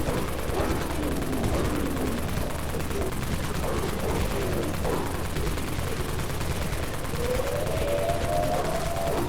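Dawn Mag weapon in the game Dead Frontier, set in the Wastelands, firing in a steady rapid stream of gunfire that runs continuously and loudly throughout.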